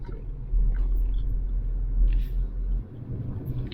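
A Toyota Tacoma TRD Off-Road fitted with new Timbren bump stops rolls along a road, giving a steady low interior rumble with a bump midway and a drop in level near the end.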